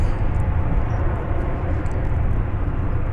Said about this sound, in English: It is an Airbus A321. And it's going off now.